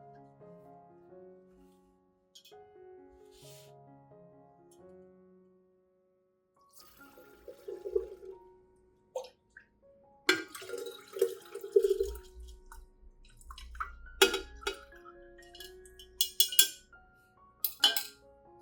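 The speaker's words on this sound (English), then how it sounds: "I will gently stir to dissolve all the vitamins and minerals, then strain out the rice," Rice-soaking water strained for an orchid tonic gives intermittent close drips, splashes and clinks of a utensil against a container, with quiet stretches between bursts.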